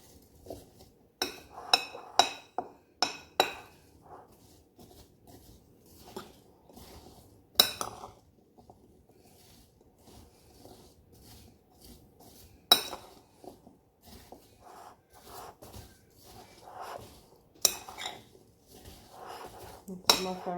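A spoon stirs a dessert mixture spiced with nutmeg in a bowl, giving repeated clinks and scrapes against the dish in irregular bursts, fairly quiet with soft pauses between.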